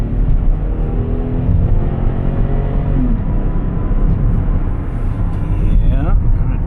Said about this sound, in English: let's see how she does under some good throttle pressure.